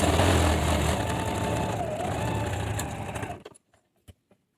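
A sewing machine runs a steady, close mechanical whir while stitching a seam on fabric mug mats, then stops abruptly, leaving a few faint clicks and taps.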